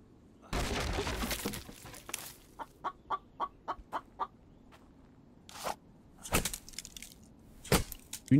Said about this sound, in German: Hühnchen, irgendwann fange ich dich.